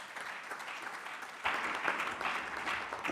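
An audience at a high-level Rotary peace conference applauds, starting as soft scattered clapping and swelling into fuller applause partway through, all heard from a distance at a fairly low level.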